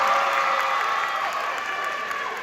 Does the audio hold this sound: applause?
yes